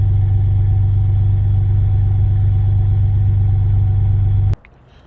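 A turbocharged V6 Hyundai Tiburon, still cold, idles with a steady, loud low rumble and even engine drone that cuts off abruptly near the end, leaving quiet.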